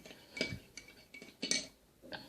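A spoon stirs a homemade chocolate milk drink in a cup, giving several light clinks and taps spread across a couple of seconds. The sound is quiet and close, with no talk.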